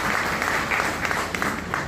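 An audience claps together at an Independence Day programme, a dense, steady burst of applause lasting about two seconds with no voices over it.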